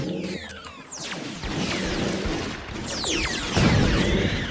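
Several booming video game explosions of explosive enemies, with whooshing debris sweeps, erupt in quick succession, loud and chaotic, the biggest burst coming near the end.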